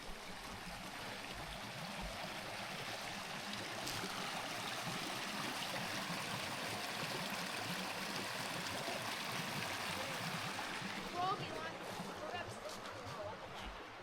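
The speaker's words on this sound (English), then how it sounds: "Got this noise of the creek right here." Creek water flows steadily at a campsite, a continuous broadband rush with a trickling texture that holds at an even level throughout.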